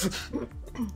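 A single short sneeze bursts out at close range during a tabletop role-playing game session, sharp and brief with a faint follow-up breath.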